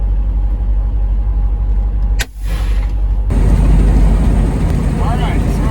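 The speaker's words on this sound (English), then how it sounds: "Just let the truck climb up Cabbage as slow as she wants to" A heavy truck engine labors slowly up Cabbage Hill, a constant low rumble and drone from inside the cab with a brief break partway through, while someone talks over it.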